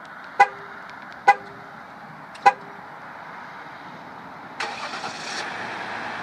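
A 2014 Jeep Grand Cherokee EcoDiesel 4x4 Overland gives three short, sharp chirps, then the diesel engine cranks and catches into a low steady idle.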